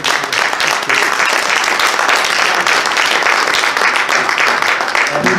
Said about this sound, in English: we need to applaud him for